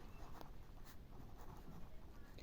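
Pen or pencil scratches across paper as an equation answer is written out by hand, a soft continuous scribbling up close, faint and low in level.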